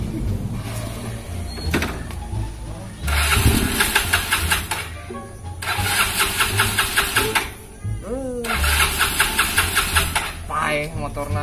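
A motorcycle engine cranks and catches in three loud bursts of revving separated by short pauses, heard close up in a Sundanese village comedy scene, with people talking over it.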